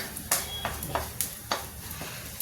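Cumin and fennel seeds roast lightly with ginger in a pan, a faint sizzle under a series of quick stirring scrapes, about eight evenly spaced strokes.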